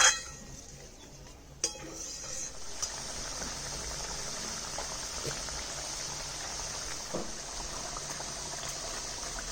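Fish curry gravy for pabda fish with mustard and poppy seed bubbling in a pan, a steady close simmering hiss with small pops and a few clinks at the start, no voices.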